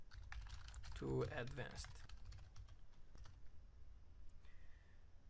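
Quick, light keystrokes tap on a computer keyboard while code is typed, clicking in short bursts close by, with someone talking over parts of it.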